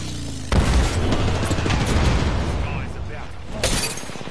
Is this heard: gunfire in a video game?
yes